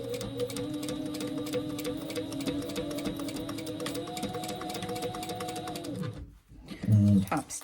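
A sewing machine top stitches a zippered moon-shaped clutch, a steady mechanical whir running for about six seconds, then stopping abruptly before a brief louder thump.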